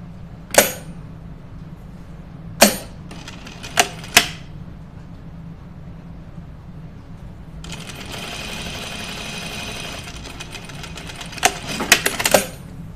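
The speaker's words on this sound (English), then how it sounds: "We're winding a bobbin right now as we speak." Sewing machine motor running steadily while winding a bobbin, a continuous whirring hum through the last several seconds, preceded by a few sharp isolated clicks and taps from handling the machine.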